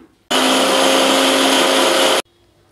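A kitchen mixer grinds about twenty small shallots for beef bone soup, a loud steady whir starting abruptly, running for about two seconds, then cutting off sharply.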